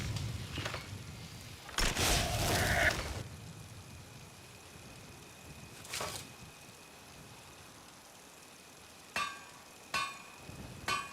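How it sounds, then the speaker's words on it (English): Blacksmith hammer strikes at a forge in Skyrim, sounding as a loud ringing burst followed by a few sharper metallic hits spaced apart, with quiet ambience between. "The ringing of that hammer will draw attention."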